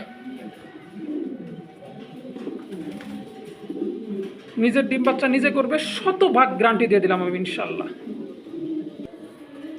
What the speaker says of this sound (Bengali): দেখেন কবুতর দুইটা